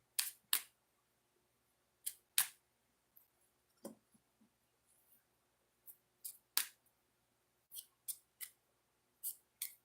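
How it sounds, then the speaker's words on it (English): Oracle cards handled while a deck is shuffled, giving sharp, separate snapping clicks at an irregular pace, some in quick pairs, with quiet gaps between them and no talking. "shuffle the deck"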